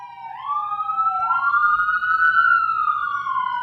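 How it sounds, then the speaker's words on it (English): Emergency sirens wail nearby, a rising and falling electronic tone with a second siren layered in, loud and continuous. "I got a bunch of sirens going on back here."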